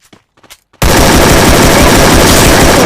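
Submachine gun fire in the Free Fire video game erupts after a brief quiet moment with faint game sounds, then a loud, continuous burst of rapid shots fills the rest of the clip.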